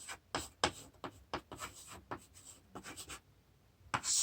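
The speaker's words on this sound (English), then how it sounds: "for Tom, I'm going to write down he feels emotions" Pen or pencil writing by hand on paper, a series of short scratchy strokes and taps in an irregular rhythm, close and fairly quiet, with no talking.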